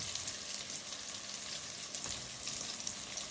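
Strawberry basa fish fillets frying in hot oil, a steady, dense sizzle and crackle filling the whole moment at close range, with no talk over it.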